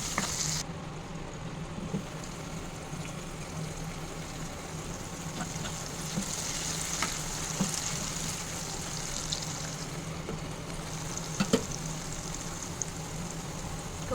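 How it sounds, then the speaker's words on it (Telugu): Onion frying in a pan for a home chicken fry, a steady close sizzle and crackle running throughout with occasional small pops, no talk over it. "ఫస్ట్ లైట్గా కొంచెం ఆనియన్ బాగా ఫ్రై అయిపోయింది"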